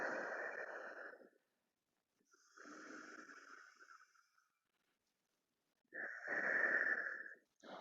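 Slow, deep breaths taken in child's pose during a low-impact flexibility workout, three long airy exhalations and inhalations separated by quiet pauses, close and breathy with a slight wheezy edge.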